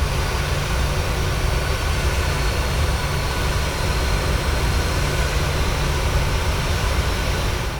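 A private jet aircraft in Microsoft Flight Simulator gives off a loud, steady engine roar with a deep rumbling low end, holding constant throughout with no talk.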